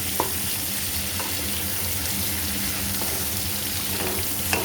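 Taro leaves and prawns frying in a pan, stirred steadily with a spatula, making a continuous loud sizzle with occasional scraping knocks and no voices.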